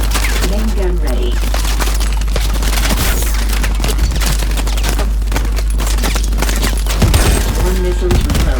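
Heavy main-gun fire from a vehicle in Call of Duty: Advanced Warfare, a dense, continuous barrage of loud booming shots and cracks layered over battle noise, with a stronger burst near the end.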